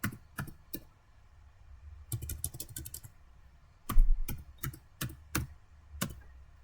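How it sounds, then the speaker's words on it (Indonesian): A computer keyboard being typed on while entering a password: sparse, crisp key clicks in short irregular bursts, with a louder thump near the middle, in an otherwise quiet room. "kita login, enter, ketikkan password"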